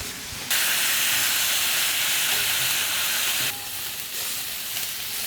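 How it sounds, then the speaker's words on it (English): Shrimp frying in butter on a hibachi-style griddle for a home Benihana meal: a sudden loud burst of hissing sizzle that holds steady, then eases somewhat and continues at a lower level. "Now, let's do the rest of that butter. Get these shrimp cooked up."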